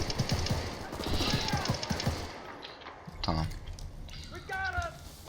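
Automatic gunfire rattles in Battlefield Bad Company 2, dense bursts up front then sparser shots and clanks later, with players talking over the action.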